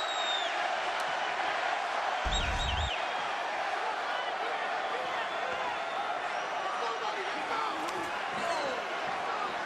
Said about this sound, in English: The crowd's chanting Diego.